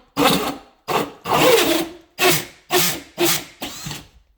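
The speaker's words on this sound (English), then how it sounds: "make sure the hole saw are flush and flat to the wall, and don't drill too fast" A power drill with a hole saw whirs in seven short bursts with brief pauses between them, each spin rising and stopping as the bit bites into drywall.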